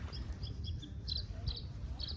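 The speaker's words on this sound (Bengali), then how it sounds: "পাখির কিচিরমিচির শব্দ" Small birds chirp in riverside trees hung with birdhouses at Piermont, New York. Their faint, quick tweets repeat at a distance over a low, constant rumble of moving water.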